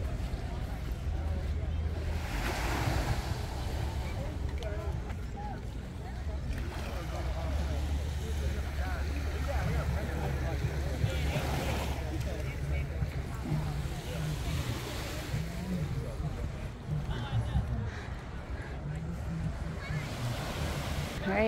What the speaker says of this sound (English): Alright, this is the beach.